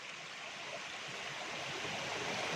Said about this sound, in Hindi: और जो सामने तरफ देख रहे हैं वही वाटरफॉल है